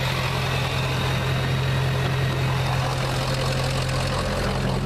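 A 2004 Ford F250 pickup with a 6.0 diesel and a 5-inch MBRP exhaust rumbles steadily at close range, a deep, even idle with a low drone held for the whole stretch and no talking.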